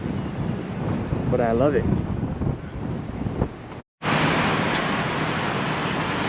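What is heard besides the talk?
wind blowing outdoors in cold Boston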